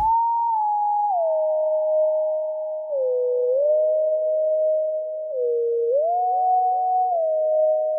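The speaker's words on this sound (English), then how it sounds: "used the ambient sine lead" A smooth, pure ambient sine wave synth lead plays a slow, gliding melody, its notes sliding between pitches with soft echoing trails, steady and alone.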